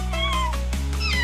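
A kitten meows twice, clear and close, with bright rising-and-falling cries over a steady low background hum.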